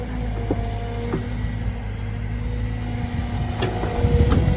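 A tractor shoves deep wet slop and mud aside on ground that sat underwater for years, its engine a steady low rumble throughout, with a couple of clanks and a heavier, rougher surge near the end.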